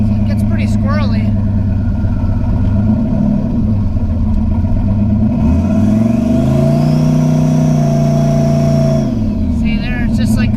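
A car engine revs hard and climbs in pitch as the wheels spin, a loud rising whine and roar that holds then drops back, with a person talking over it.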